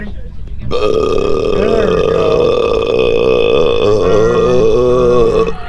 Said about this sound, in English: Got a regular burp in there